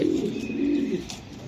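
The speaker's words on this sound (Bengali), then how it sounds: "এই যে দেখেন, এই যে কবুতরটা" A racing pigeon coos close by, one low continuous throaty rumble filling the brief moment with no talk over it.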